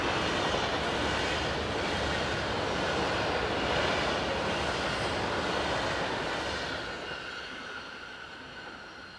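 A Swiss Class 450 train set passes in the opposite direction beside a pair of Class 502 sets on the Sargans to Zürich mainline, a steady, distant-sounding rail rumble that fades gradually toward the end.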